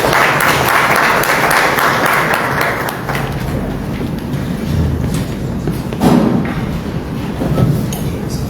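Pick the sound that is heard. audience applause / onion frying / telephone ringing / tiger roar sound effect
audience applause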